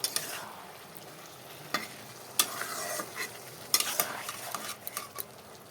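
Potatoes being fried and stirred in a pan for a breakfast of roti and fried potatoes: a steady soft sizzle runs throughout, broken by sharp scraping clacks of a spatula against the pan every second or so.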